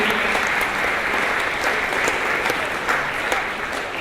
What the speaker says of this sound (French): il mérite qu'on l'applaudisse, mesdames et messieurs